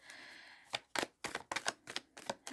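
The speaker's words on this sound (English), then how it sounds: "So, I'm just doing some shuffling," Tarot cards are shuffled in quick crisp riffles and slaps, several short bursts close up after a brief quiet start, with no talking.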